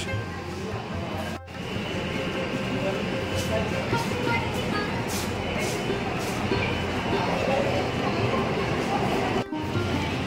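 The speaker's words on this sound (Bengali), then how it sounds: "এই যে মেট্রো বেরিয়ে যাচ্ছে" A Kolkata underground metro train pulls out of a station platform, a loud, continuous rumbling roar that holds steady throughout, with a person talking over it.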